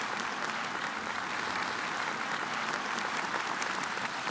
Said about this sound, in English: Let's take a moment and applaud their continued work and outstanding efforts.